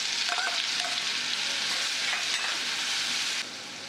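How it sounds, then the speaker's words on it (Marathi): Cumin, fennel, hing and ground spice paste sizzling in hot oil, a loud close frying hiss with light stirring, dropping slightly quieter at the end. "आता जिरे घालते, जिऱ्यानंतर बडीशेप घालते, हिंग, नंतर जे आपण वाटण वाटलेलं आहे ते"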